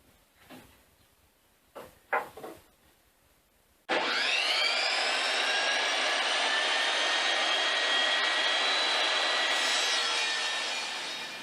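A small leftover piece of maple wood is cut with a power tool: after a few quiet knocks and handling sounds, a loud, steady high-pitched whine starts abruptly and holds for several seconds before easing off.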